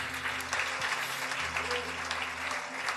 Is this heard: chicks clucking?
no